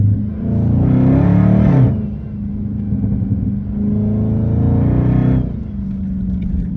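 A loud Hellcat-swapped 392 Scat Pack engine revs up twice, each climb ending in an upshift, with a high supercharger whine riding over the rumble.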